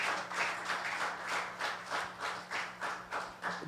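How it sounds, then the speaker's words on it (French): A church congregation claps together for God in a sustained round of applause, steady rhythmic hand claps close and loud with no talking. "Let us clap for God."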